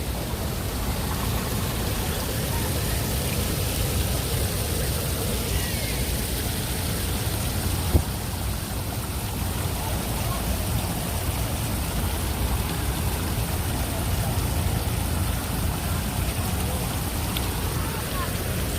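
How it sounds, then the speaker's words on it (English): Water running through a water feature on the High Line in New York City, a steady close wash of splashing flow with a faint background hum and one brief click partway through. "Let's just listen to some water."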